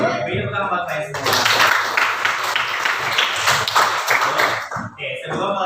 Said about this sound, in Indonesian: beri tepuk tangan buat saya semua